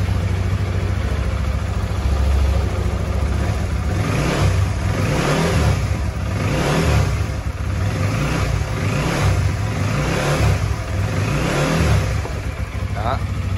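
A Honda Winner X motorcycle, recently repaired for an idle fault, revs its engine close by in a steady series of throttle blips that rise and fall over a continuous running hum.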